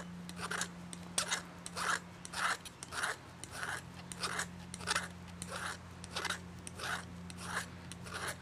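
Small metal file rasping a fishing hook barb in steady back-and-forth strokes, about two per second, close and fairly faint, with a low steady hum underneath and no talking.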